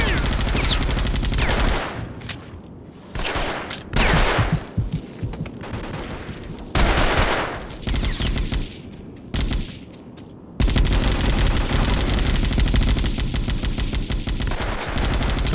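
M60 machine guns fire in the Vietnam War shooter Vietcong, with loud rapid bursts of automatic gunfire starting and stopping repeatedly, then a long sustained stretch of heavy shooting near the end.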